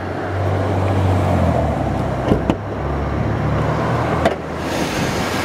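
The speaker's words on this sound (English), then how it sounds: "3800 series motor sounds great." A 2004 Chevrolet Monte Carlo SS with its 3800 series V6 runs at a steady idle, a low, even engine rumble held close and loud throughout, broken by a couple of brief clicks or knocks.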